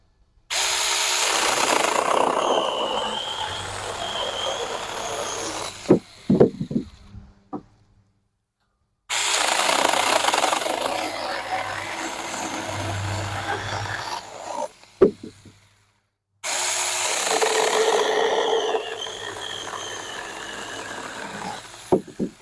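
A handheld power tool cuts through wood in three long, loud bursts with silent gaps between them, the motor whining steadily and dipping slightly as it bogs down under load near the end of each cut.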